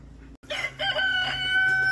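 Roosters crow loudly and close, calls overlapping with squawks and a scuffle, a harsh burst of fowl noise filling the short moment.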